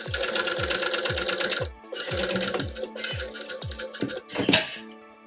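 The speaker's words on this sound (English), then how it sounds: "When I get to the end, I'm just going to go over where I started to secure the stitch." A sewing machine runs close up in short bursts while going back over the start of a circular seam to lock the stitch, its rapid mechanical chatter pausing briefly between runs, ending with a sharper clack.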